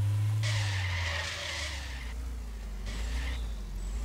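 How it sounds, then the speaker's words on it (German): A car skids through a handbrake turn in a drift simulator video game, giving two loud tire squeals over a constant low engine rumble. "Wenden in einem Handbremsenzug."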